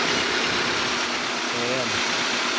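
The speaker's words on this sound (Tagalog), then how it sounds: "ito na po naman ito maandar na itong makina" Engine of a 2003 Honda Civic, just restarted after a no-start fault, idles with a steady, close mechanical drone and no clear voices over it.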